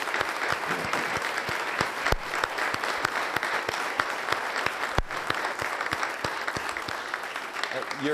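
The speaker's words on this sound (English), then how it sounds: "I want to start off a round of applause for you." An audience applauds at an Oklahoma City City Council meeting, a sustained round of clapping with some sharp individual claps standing out, steady throughout.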